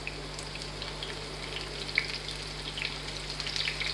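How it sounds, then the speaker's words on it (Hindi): Onion fries in oil in a pan with a quiet, even sizzle and faint pops, heard alone without talk over a low steady background hum. "1/3 कप मैंने पैन में डाल दिए और अब मैं इसमें डालूँगी प्याज।"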